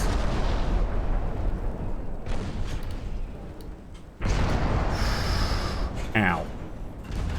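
In World of Warships, the USS Arkansas battleship's secondary guns fire at a destroyer in heavy booming bursts over a dense rumbling battle din, with a sharp whistling shell sound late on.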